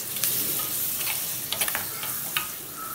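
Chopped tomato with masala sautéing in hot oil for a village-style sardine curry, a steady sizzle broken by several scraping stirs of a spoon against the pan, close and without talk.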